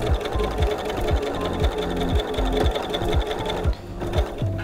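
A sewing machine stitches fabric for an envelope book cozy, a close, steady mechanical chatter of rapid needle strokes with a brief pause near the end.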